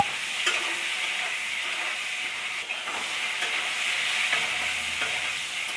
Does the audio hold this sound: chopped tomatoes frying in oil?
yes